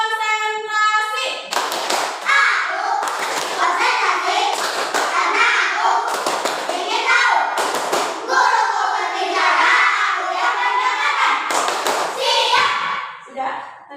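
Elementary school pupils performing the tepuk konsentrasi clapping chant in class, groups of crisp unison claps punctuating sung and chanted children's voices in a repeating rhythm, loud and near.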